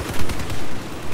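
Suppressed MTAR rifle fire in the Battlefield 4 video game sounds as a quick burst of muffled shots, dense and fairly loud, over about a second with no speech.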